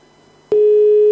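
A telephone line goes dead after a caller disconnects: near silence, then a click, and a loud, steady busy tone sounds alone to the end.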